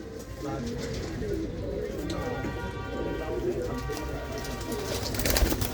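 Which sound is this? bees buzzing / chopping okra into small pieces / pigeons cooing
pigeons cooing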